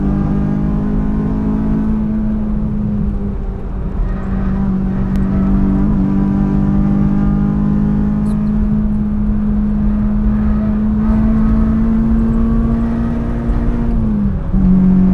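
A 215,000-mile Honda Civic EP3 Type R pulls hard at full throttle, its loud in-cabin engine note climbing steadily through the gear in a long continuous wail before dropping sharply as the throttle lifts near the end.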